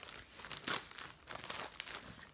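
Tearing open a parcel of books, a close crinkly series of paper and packaging rips and crumples in uneven bursts, fairly quiet, with no speech.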